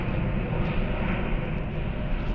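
A fixed-wing airplane approaches to land, a steady broad engine roar holding at even loudness throughout the short stretch with no voices over it.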